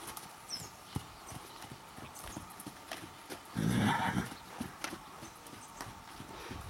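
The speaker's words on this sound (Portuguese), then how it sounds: "Esse cavalo é um reprodutor." A breeding stallion's hooves clip-clopping at a steady walking pace on hard ground, moderately close, with a brief louder snort or whinny midway through.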